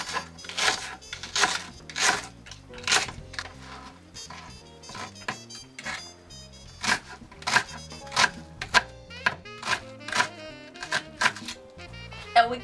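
A knife chops a red onion finely on a board, giving a close series of sharp, crisp knocks in irregular bursts with short pauses between.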